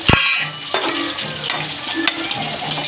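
Onions fry with turmeric, salt and chili powder in a pan, giving a steady sizzle broken by several sharp clinks and scrapes of a spoon stirring against the metal.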